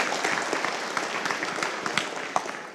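A group at a male mentoring session gives itself a round of applause, moderately quiet scattered clapping with a few sharper individual claps, brief and fading out.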